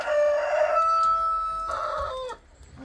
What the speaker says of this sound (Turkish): Akşam horoz öter mi ya?